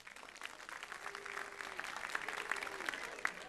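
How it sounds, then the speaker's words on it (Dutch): Light applause from a small group at a Sinterklaas circus show, fairly quiet and steady, with a voice faintly heard beneath the clapping. "Een applausje voor Roelas Boelas."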